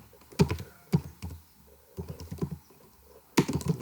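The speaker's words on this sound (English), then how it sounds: "type over here" Someone types on a computer keyboard, producing close, distinct clicks and thuds in irregular short clusters spread across several seconds.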